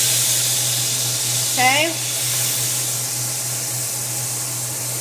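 Diced bell pepper and other gumbo vegetables sizzle in a roux in a pan, a steady close hiss with a low hum beneath, and a brief spoken word partway through.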